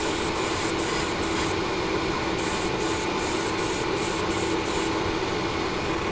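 Vallejo white surface primer goes on as a second coat from an airbrush, a loud continuous hiss with a steady background whir and a rapid series of short pulsed bursts near the start and middle, close up with no talk.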